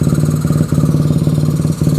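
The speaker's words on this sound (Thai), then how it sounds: "ลองเบิ้ลหน่อยนะผมเบิ้ลหน่อยนะ" A close rebuilt 150cc Honda Dream motorcycle engine runs with a fast, throbbing pulse, briefly dipping and picking back up in short revving blips, loud and steady.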